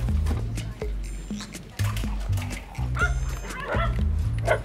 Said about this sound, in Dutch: Gaat even los op de andere hond.